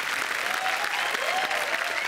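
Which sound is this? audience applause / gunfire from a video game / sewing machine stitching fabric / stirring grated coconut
audience applause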